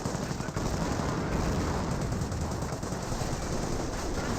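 Flak gun fire in the Company of Heroes game, a dense, continuous rattle of rapid shots with no breaks, loud and close across the whole stretch.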